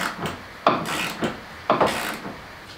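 A ratchet tightens a nut on a car body side frame, giving a few quick clicking bursts in two separate sets, close and fairly quiet.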